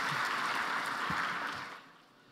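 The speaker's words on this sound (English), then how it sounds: "let's give him a round of applause." Applause fills a conference hall as a speaker walks onto the stage at the COP29 event, a dense, steady wash of many hands clapping that holds evenly and then fades away near the end.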